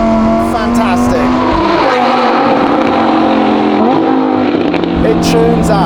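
A Lamborghini Huracan STO with a 5.2-litre naturally aspirated V10 roars continuously and loudly, its pitch climbing and dropping as it revs, with a sharp, screaming tone throughout.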